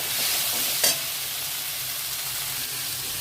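Ground coriander and turmeric being stirred in a hot frying pan, a steady close sizzle with one brief sharp scrape of the spatula near the start.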